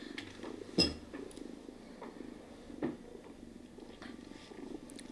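A pet cat purrs close by in a quiet room, a soft steady rumble with faint clinks and small handling noises over it.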